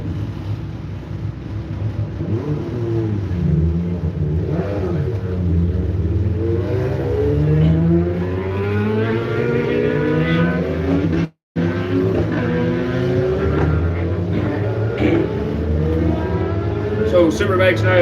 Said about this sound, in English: So Superbike's now out on track.